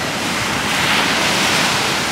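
Evening sea waves washing onto a beach make a steady, full hiss of surf that swells slightly midway. No voices are heard.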